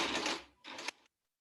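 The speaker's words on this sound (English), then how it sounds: "you can turn the cuff and continue stitching" Sewing machine stitching a shirt sleeve cuff and pivoting the fabric, two short close bursts of machine running separated by a brief pause, ending in silence.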